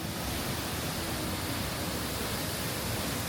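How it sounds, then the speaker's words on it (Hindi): A monsoon waterfall in Munnar, water crashing and flowing over rocks as a dense, steady roar of broadband rushing noise that stays constant and loud, with no voices. "नीचे चट्टानों के बीच से बहता हुआ पानी उसके फ्लो की ताकत दिखाता था।"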